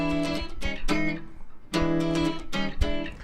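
Electric guitar played through its middle pickup circuit, bright strummed chords in short punchy bursts with brief gaps between them, close and loud with no talking.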